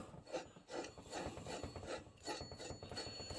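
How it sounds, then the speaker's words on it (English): A clutch is spun onto the crankshaft of a Farmertec 288xp chainsaw kit, giving repeated close rasping, rubbing metal scrapes in an uneven rhythm with no talk. "Spin our clutch on."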